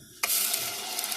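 Chopped medium onion drops into hot ghee in a pan and bursts into loud sizzling, which then holds as a steady crackling hiss.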